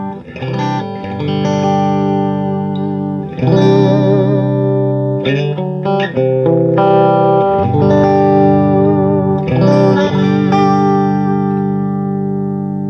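Electric guitar rings out through a 1968 Fender Deluxe Reverb amp, warm with reverb, playing sustained chords and melodic phrases with a slightly overdriven tone, loud and close.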